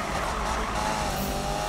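A car in Need for Speed drifts with a sustained, loud tire squeal over a steady engine roar, lasting the whole moment without pause.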